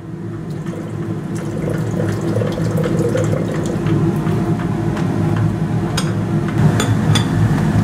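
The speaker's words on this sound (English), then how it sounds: "Getting some bubbling here," Hydrochloric acid added to a copper-recovery stock pot fizzes and bubbles as it dissolves residual zinc, a steady liquid rush with crackling pops and a few sharp clinks, no talking.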